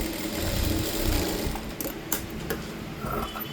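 A sewing machine stitches a blouse in a steady mechanical whir for about a second and a half, then stops. A few light clicks and taps follow.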